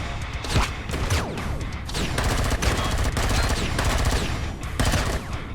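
Gunfire in the space survival game Empyrion Galactic Survival, Reforged Eden mod: loud, rapid bursts of automatic shots and sharp impacts pile up over a few seconds, with no voice over them.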